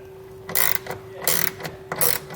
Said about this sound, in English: Now I'll come back with the wrench and further tighten it down.